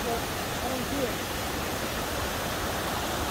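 A waterfall and river pour steadily in Las Conchas nature park, Guatemala, a loud, unbroken broadband roar of rushing water that fills the whole stretch without pause.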